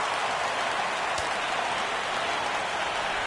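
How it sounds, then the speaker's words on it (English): A baseball stadium crowd rising for a full-count pitch with the bases loaded, a steady dense roar of many voices spread evenly across the whole moment, with no single speaker standing out. "Crowd gets up for the 3-2."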